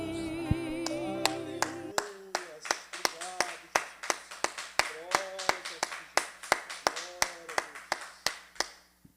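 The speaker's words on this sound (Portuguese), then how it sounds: "Vamos aplaudir o nosso Deus, o nosso Senhor." A church congregation claps in a steady, evenly spaced rhythm during a worship devotional, sharp unison beats continuing for several seconds after a brief spoken and sung phrase at the start.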